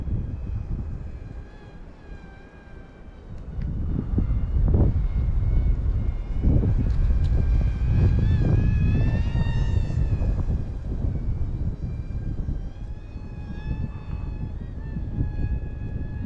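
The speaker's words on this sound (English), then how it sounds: "I'm sure you can hear that wind and you can see it in the weeds here. And impressive as can be that this airplane's still flying." A small, lightweight Deerc Z-65 RC airplane whines through strong wind outdoors, its buzzing motor rising and falling in pitch over steady wind buffeting on the microphone.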